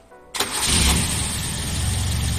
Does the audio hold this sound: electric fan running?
no